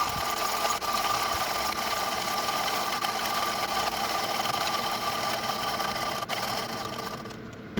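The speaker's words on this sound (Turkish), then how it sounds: "Komendante 22 klikle öğütüm yapacağım." A Comandante hand coffee grinder works through Beloya Ethiopia coffee beans at a 22-click setting, giving a steady, close, continuous grinding rasp that runs without pause and fades out near the end.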